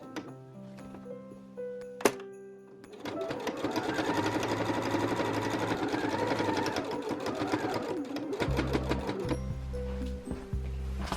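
A sewing machine stitches a quilted tote bag pocket with a steady, close mechanical whirr of rapid needle strokes, after a few isolated clicks at the start. Near the end the stitching breaks off and resumes briefly.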